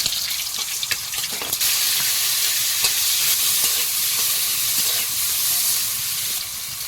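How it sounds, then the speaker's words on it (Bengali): Dry red chili and panch phoron fry in a little oil in a wok, giving a continuous close crackling sizzle with small pops and stirring scrapes. "কড়াইতে অল্প একটু তেল দিলাম শুকনো লঙ্কা একটু পাঁচ ফোড়ন দেবো"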